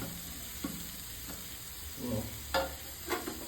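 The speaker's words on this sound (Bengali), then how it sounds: "এবার আমি মাশরুমটা দিয়ে দেবো।" Mushrooms go into butter in a pan and give a faint, low sizzle, with a few soft clinks and scrapes from stirring.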